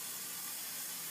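A pump-pressurized kitchen oil spritzer spraying cooking oil onto a pan, a soft continuous airy hiss lasting about a second, quiet and close.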